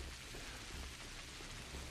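Steady pouring rain in the Pathologic game, a dense, even hiss with a low rumble underneath, soft and unbroken throughout with no speech.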